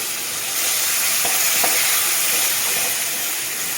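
A spice paste made with ground spices sizzles and hisses in hot oil after a splash of water, a steady bright frying crackle with a few soft stirring clicks, close and continuous with no talking.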